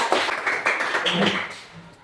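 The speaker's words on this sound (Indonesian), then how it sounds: "Tepuk tangan untuk kelompok 3" A classroom of children claps for group 3, a brief spattering burst of hand claps close by that thins out and fades, with a voice murmuring toward the end.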